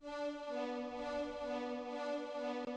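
A fuller sustained cello chord from a string section in a moombahton EDM remix, held steady and loud with gentle swells, alone with no talking.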